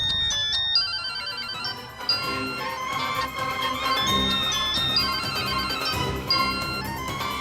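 A phone ringtone plays continuously, a bright electronic melody repeating steadily at moderate loudness with no voices.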